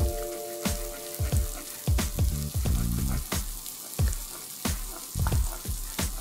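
Sliced onions sizzle and crackle in hot oil in a pan, the frying steady and close with irregular bursts and pops of spattering, no voices over it.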